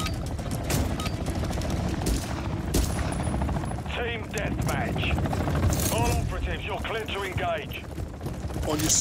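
Heavy, continuous gunfire fills a video game battle, with overlapping bursts and mechanical clatter throughout while voices call out over the noise.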